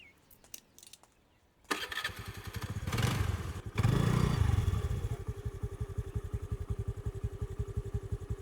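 A motorcycle engine starts with a sudden clatter after a faint, quiet stretch, revs up loudly, then settles into a steady, close, pulsing idle for several seconds with no talk over it.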